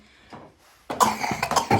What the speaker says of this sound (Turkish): Bakın arkadaşlar nasıl öksürdüğüne bir bakın.